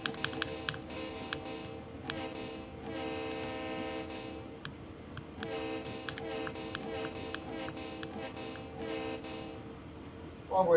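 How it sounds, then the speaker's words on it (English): An SD40-S diesel locomotive on Sand Patch Grade in the game Train Sim World 6, with a steady engine drone and a repeated horn-like tonal blast over a rhythmic ticking, fairly quiet overall. "Why can't I slow this train down?"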